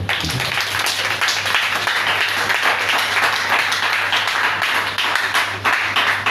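A church congregation applauding during a service, with dense, steady clapping from many hands that holds loud and close throughout, over a low constant hum.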